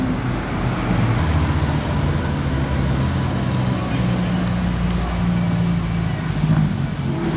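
A new BMW M2 drives past, a steady rumbling engine and road roar that stays fairly loud and continuous throughout, with a low hum underneath.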